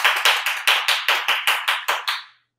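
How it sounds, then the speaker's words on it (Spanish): Applause for a guest on a remote show comes as about nine sharp, evenly spaced claps, each with a short ringing tail, in a steady rhythm before stopping. "Un aplauso para Lázaro."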